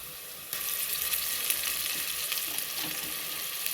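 Ginger garlic paste fries with golden-brown onions. A soft background sizzle jumps to a louder, steady hiss and crackle when the paste goes into the pan, and it continues evenly to the end.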